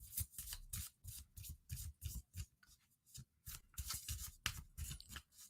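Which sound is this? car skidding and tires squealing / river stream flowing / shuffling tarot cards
shuffling tarot cards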